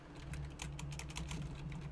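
Rapid keystrokes on a computer keyboard clatter in a steady, uneven stream during a Minecraft UHC session, fairly close and alone over a low background hum.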